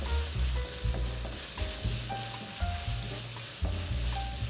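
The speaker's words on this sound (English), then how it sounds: "Sauté the onions over medium heat until they turn golden." Chopped onions sauté over medium heat in a pan, giving a steady close sizzle and frying crackle, with occasional stirring scrapes and soft clinks, and music playing underneath throughout.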